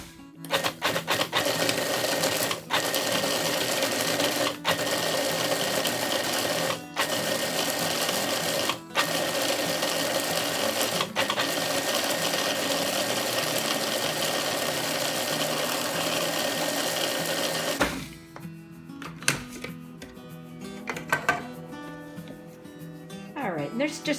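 A food processor pulses chopped dates for a gluten-free date nut apple crisp, giving a loud, steady motorized whir with brief pauses, then stopping near the end as a voice speaks over quieter clatter.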